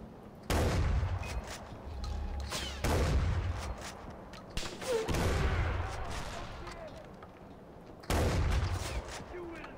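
Repeated heavy gunfire and blasts from a shotgun-like weapon in the video game Far Cry 4, with loud bursts recurring every couple of seconds over a continuous noisy battle background.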